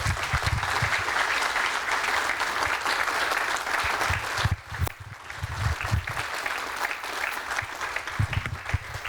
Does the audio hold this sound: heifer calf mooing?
no